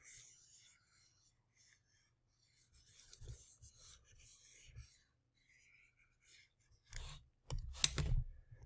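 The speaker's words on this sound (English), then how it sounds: "I'm actually going to erase this real quick so that I have room to write" A board is rubbed clean of writing in a few scattered bursts of soft rasping and scrubbing, ending in a louder, busier patch of wiping close by, with no speech.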